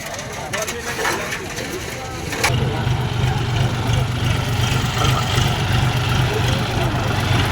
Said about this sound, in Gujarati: જોજે ટ્રેક્ટરની બહબાટી બોલે ને,